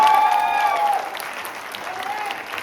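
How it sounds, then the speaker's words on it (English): Audience applause at a St Stephen's College Delhi annual play event, a steady crowd clapping that carries on underneath a brief tonal sound at the start and then settles into an even, moderate patter. "So please give a big round of applause."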